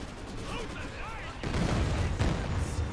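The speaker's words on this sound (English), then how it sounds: "There's some rockets coming in." Katyusha rocket barrage slamming down in a strategy game battle, a sudden loud rumbling burst of impacts midway that keeps roaring and crackling, with a commentator's voice heard underneath.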